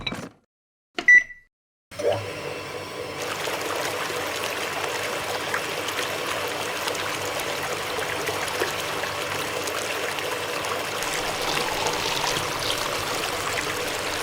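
Water streams steadily from the outlet pipe of a LEGO pump driven by a gearbox, a continuous close trickle and splash after a couple of brief beeps and clicks at the start.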